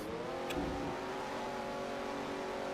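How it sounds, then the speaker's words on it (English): Porsche and McLaren race cars running side by side for the lead at the Rolex 24 endurance race, their engines roaring and revving loudly, with one sharp burst near the start and the shifting engine tones heard throughout. "Side by side for the race lead. The Porsche versus the McLaren."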